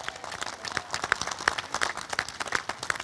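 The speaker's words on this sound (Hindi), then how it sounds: "इनके लिए भी जोरदार तालियां बजाइए" Faint, steady clapping from an audience welcoming three guests at a public event, an even patter of hands heard alone at a distance.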